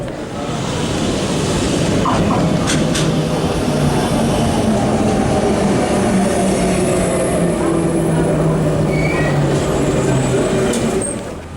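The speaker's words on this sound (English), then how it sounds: "I'm going to jump on the RER to Châtelet station." A loud, steady rumble of a Paris RER double-decker commuter train riding along the rails fills the whole stretch, heard from the lower deck, with whining motor tones rising and falling.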